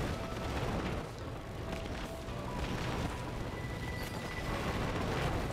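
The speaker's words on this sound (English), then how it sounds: "Oh, lightning strikes." Lightning strikes in the video game Risk of Rain 2, heard as repeated crackling bursts and booms over a loud, dense wash of game noise.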